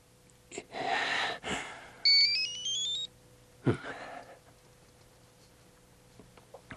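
A telephone rings once in a short electronic burst of stepped tones that rises over scattered bumps and rustling in an indoor scene.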